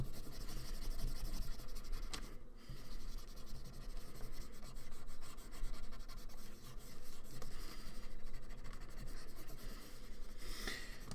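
Pencil or drawing tool rubbed repeatedly across paper to smooth out a drawing, a steady close scratchy rubbing with brief pauses, no speech.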